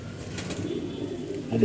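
Pigeons coo softly in a loft, a faint low murmur with a little wing movement in the background and no voices.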